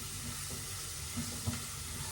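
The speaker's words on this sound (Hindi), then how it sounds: "प्याज भुन चुकी है" Onions fry in a pan as they are stirred, a steady low sizzle with a few soft knocks from the spoon, quiet and continuous, with no talk.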